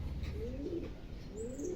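Pigeons in a racing loft being trained for a tournament coo softly in repeated low rising calls, with a few faint chirps over steady background noise.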